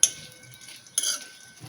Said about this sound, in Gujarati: ધીમા ગેસે આપણે થોડીક વાર શેકવાનો છે